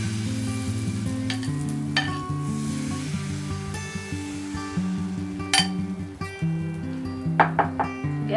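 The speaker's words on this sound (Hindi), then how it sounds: "के लिए हमने पैन में देसी घी और रिफाइंड ऑयल को मिक्स करके इसमें डाला हुआ है। अब हम बैटर को डालेंगे।" Batter hits a hot pan of desi ghee and refined oil for patishapta pitha, giving a moderate sizzle under a low background drone, punctuated by sharp clinks of a utensil against the pan.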